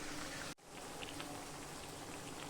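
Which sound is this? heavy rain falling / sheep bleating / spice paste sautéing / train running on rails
heavy rain falling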